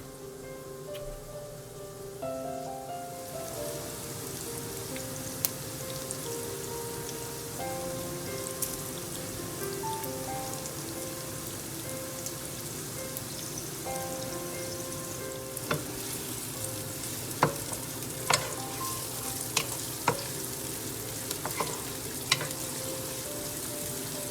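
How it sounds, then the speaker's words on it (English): Spicy garlic chicken pieces sizzle steadily in hot oil, a dense continuous crackle with occasional sharper pops and stirring clatters toward the end, close and fairly loud with no voices. "I'm frying them for 2 minutes."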